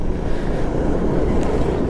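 Strong storm wind buffets the microphone in Negros during a typhoon, a steady, loud roar of gusting rumble with no breaks and no voices.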